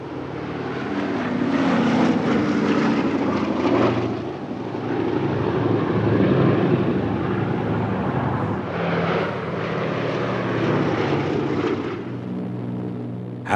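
Propeller engines of World War II B-25 Mitchell bombers drone steadily and loudly throughout, a dense continuous roar that swells and eases slightly without pause.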